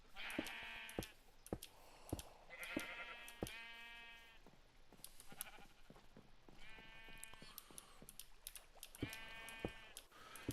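Sheep bleating in the Minecraft video game: several distinct bleats come in irregular bursts, some doubled, with sharp clicks scattered between them, clear and at moderate volume.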